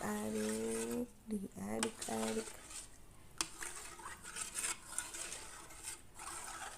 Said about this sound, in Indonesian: aduk-aduk lagi, aduk sampai merata, terus diaduk, terus diaduk.